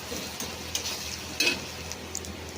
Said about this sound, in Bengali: পেঁয়াজগুলো ভাজা ভাজা প্রায় হয়ে এসেছে